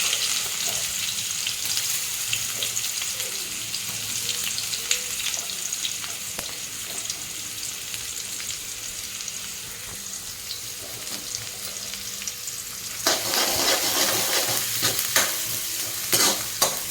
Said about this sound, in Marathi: कांदे जे आहेत चांगले मऊ होईपर्यंत परतून घ्यायचं.